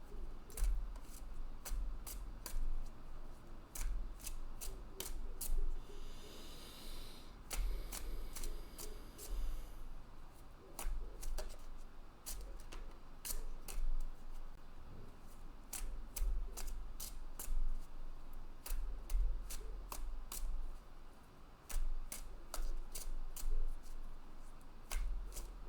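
Repeated rapid riffling and snapping of tarot cards being shuffled, coming in close, crisp bursts with short pauses between rounds.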